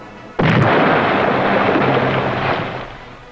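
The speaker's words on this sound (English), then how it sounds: "As the submarine reached 250 feet, there was another close explosion." A single sudden, heavy depth charge explosion booms close to a submarine at 250 feet, then a long rumbling roar that slowly fades away.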